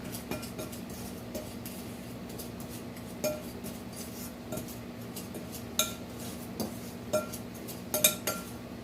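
Butter being squashed and mixed into sugar in a bowl for applesauce muffins, irregular clinks and scrapes of a utensil against the bowl, fairly quiet, with no voices.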